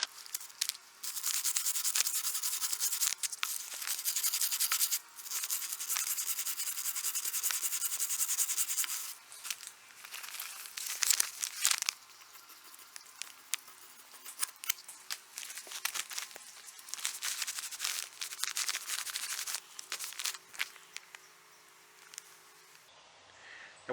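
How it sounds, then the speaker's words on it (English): Steady scraping and rubbing as old paint is picked off a vintage solid walnut farm table, with continuous bursts of close scratching separated by short pauses, no talking. "I'm going to be picking paint"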